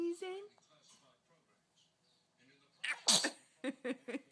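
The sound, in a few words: baby sneezing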